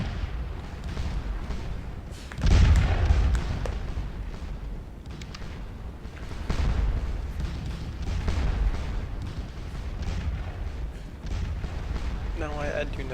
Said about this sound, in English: I'm just bringing the artillery forward